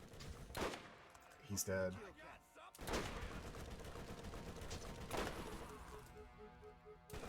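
Gunfire in the Borderlands video game, fired at point-blank range: several sharp, loud shots in separate bursts spread across the clip. Someone talks over them.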